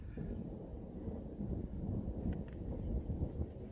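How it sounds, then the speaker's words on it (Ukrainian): Thunder rumbles low and distant under steady wind, a deep continuous roll that grows slightly toward the end, with no talking. "Грім гримить, земля трясеться."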